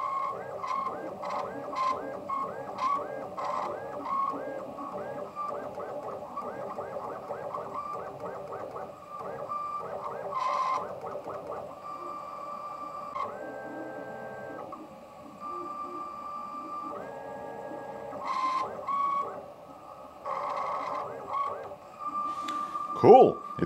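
Small DIY robotic actuator motor moving in short bursts, with whirring tones and brief beeps and clicks starting and stopping at close range while a person talks over it.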